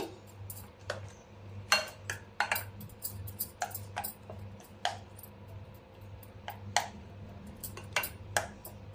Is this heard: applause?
no